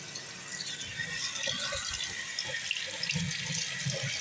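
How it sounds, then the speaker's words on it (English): Water runs steadily from a bathroom tap into a sink, a continuous close splashing hiss with faint clinks. "the water that comes out of specific taps in this bathroom"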